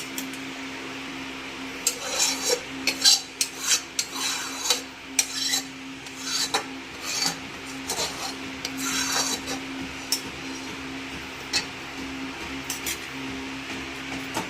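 Dishes and pots being scrubbed by hand, with scattered scraping and rubbing strokes and light clinks of utensils over a steady background hum, fairly faint and without talk.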